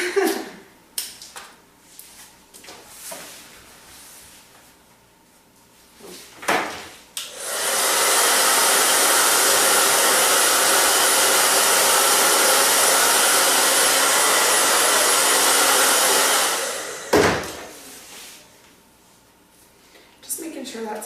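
A hair dryer blows steadily and loudly for about ten seconds while thick layered hair is dried in small sections, with quieter handling noises and brief pauses before and after.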